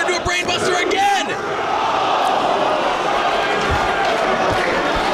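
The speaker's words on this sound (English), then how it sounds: "this crowd erupts as they thought they were going to see a new champ here in Atlanta" Wrestling crowd at an Atlanta arena erupting in loud, sustained cheering that swells into a broad roar, with a commentator's voice briefly audible at the start.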